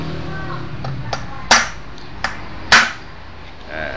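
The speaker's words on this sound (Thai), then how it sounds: "มาร์กจุดที่จะเจาะก่อน โดยใช้เหล็กนำศูนย์ เหล็กนำศูนย์กับค้อน" A hammer strikes a center punch to mark a drilling point on an engine intake manifold, giving two sharp, loud metallic knocks and a few lighter taps in a quiet workshop.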